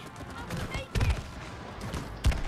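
Gunfire in the video game It Takes Two as players shoot at a nest, bursts of rapid shots at moderate loudness mixed with game effects, with no voices.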